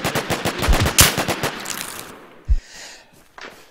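Fast automatic weapon fire in a first-person shooter game, a tight rattling burst of close shots peaking sharply, then a lone heavy thud and faint trailing sounds.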